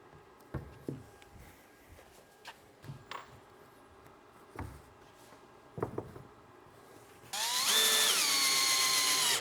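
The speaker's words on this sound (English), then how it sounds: "So we like to use the install driver" A cordless install driver sinks screws into window trim, starting with scattered light taps and handling knocks, then a loud steady motor whine that rises in pitch and holds near the end.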